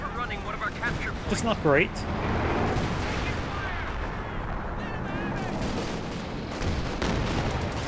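Artillery barrage of about four rounds in Company of Heroes 2, booming shell impacts and battlefield gunfire throughout, with someone talking over the battle.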